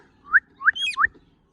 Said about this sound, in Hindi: जब मैं सीटी मारता हूँ ना तो पीछे से सीटी ये भी मारता है, देखना